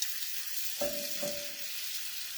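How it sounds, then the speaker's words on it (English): Kale sizzles and hisses in a hot pan, a steady frying crackle with a brief clink or stir partway through. "And now I'm just going to put the kale in."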